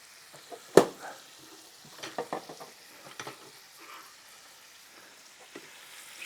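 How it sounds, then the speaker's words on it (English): A utensil stirs zucchini with beef bouillon in a frying pan, giving soft scraping and gentle sizzling. A sharp knock comes near the start, then scattered light scrapes follow, close and quiet. "stir that just a little bit"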